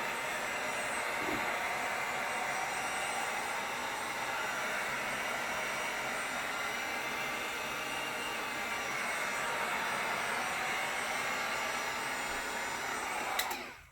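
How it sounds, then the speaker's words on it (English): A heat gun blows over wet acrylic paint on an abstract canvas, a steady, fairly loud airy roar held for about fourteen seconds before it clicks off. "We're just going to hit it with the heat gun."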